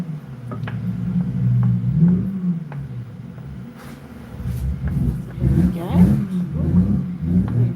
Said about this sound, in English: Revving their car up outside.